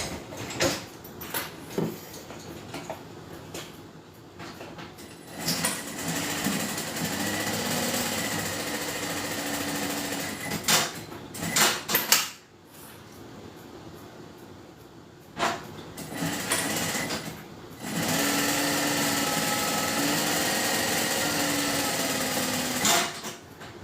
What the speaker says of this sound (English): You'll probably be able to hear me sew it.